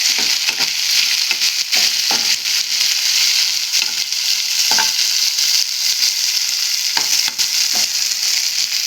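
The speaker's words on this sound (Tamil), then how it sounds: "இனி ஃபுல்லாக எண்ணெயிலே அது வதங்கட்டு." Okra and chillies sautéing in hot oil for a Tamil vendakkai poriyal, a loud continuous sizzle broken by scraping stirs of a spoon against the pan at irregular intervals.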